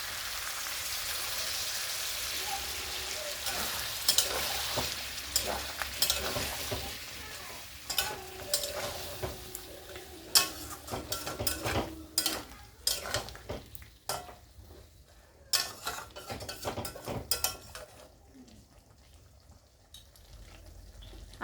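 Mutton curry sizzles and bubbles in a pot just after water is added, with steady frying hiss and a run of sharp scraping and clinking stirs, close up and without talk.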